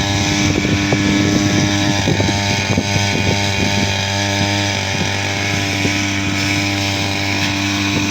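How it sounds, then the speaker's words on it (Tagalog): Grass cutter running steadily in a windy garden, a loud buzzing two-stroke drone that wavers slightly as it cuts, close up, with no voices. "at gumagana na nga yung grass cutter"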